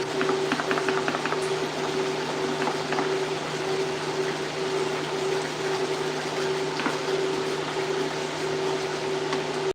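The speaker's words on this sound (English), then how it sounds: "the green tower is filled with water" Water steadily fills a hydroponic green tower in a grow tent, a continuous close pouring and bubbling wash over a faint steady pump-like hum, with no talking.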